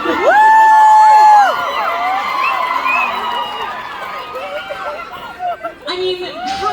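A large crowd at a Stranger Things cast panel at Fan Expo Canada cheers and screams loudly, high shrill whoops over dense chatter, then settles into murmuring while a voice speaks over a microphone.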